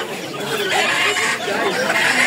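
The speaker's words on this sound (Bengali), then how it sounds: "এগুলো সব মুরগি" Fayoumi chickens cluck and chatter at a village market, a continuous busy layer of bird calls close by with a murmur of people in the background.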